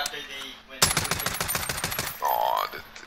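Rapid machine-gun fire in Call of Duty: Warzone, a sustained burst of about a second and a half of evenly spaced shots, fairly close, with brief talk before and after.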